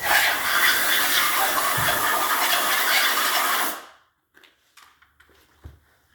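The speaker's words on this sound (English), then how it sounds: "Just gonna blow our debris out of the way." Compressed air blasts debris out of freshly cut engine valve seats in a loud, continuous hiss lasting a few seconds, then cuts off abruptly, leaving faint clicks and small handling noises.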